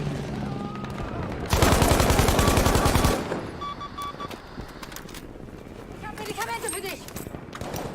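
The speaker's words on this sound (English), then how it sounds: "Although it does shoot a bit like an assault rifle." A gun in Battlefield V multiplayer firing a sustained fast automatic burst up close, loud and continuous for about two seconds, with game ambience and players talking before and after.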